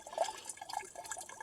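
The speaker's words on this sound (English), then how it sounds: "then you start pouring water in" Water pours slowly into the small fill hole of a camp shower, a faint, trickling, dripping sound heard up close with no talk.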